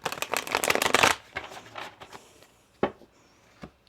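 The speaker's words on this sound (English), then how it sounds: "Let me shuffle that for you again." Tarot cards are shuffled up close: a dense flurry of papery riffling for about a second, then scattered softer slides and taps as the deck is handled.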